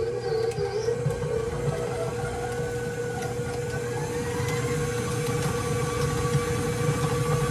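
A stand mixer with a paddle attachment creams ingredients for a lemon pound cake, giving a steady, continuous motor whir with a low hum and faint rhythmic churning that holds evenly throughout, with no talking.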